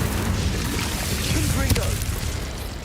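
An Incendio fire spell cast in Hogwarts Legacy, a deep whooshing boom of flame that swells over a low rumbling bed, peaks in a brief crackling burst, then settles back.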